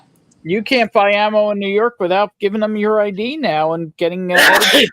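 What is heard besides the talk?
sneeze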